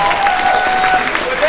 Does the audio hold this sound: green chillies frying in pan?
no